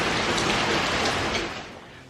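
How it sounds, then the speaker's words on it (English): Steady rain falls outside on a summer day as a dense, even hiss that holds for about two seconds and then eases slightly, with no voices. "Just an awful lot of wonderful rain."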